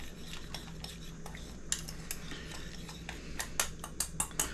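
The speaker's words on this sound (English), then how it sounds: "and stir it up" Melted butter for a mustard cream sauce is stirred in a pan, with a spoon clinking and tapping against the metal in irregular knocks. The clicks come quicker and louder toward the end over a faint low hum.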